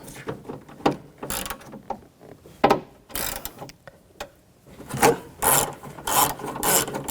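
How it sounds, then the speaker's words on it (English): An 8mm socket on a ratchet backs out a bolt from the rear window regulator of a 2000-2006 BMW X5. Irregular, close scraping and clicking bursts come and go, with no voices. "Using a 8mm socket, take this bolt out."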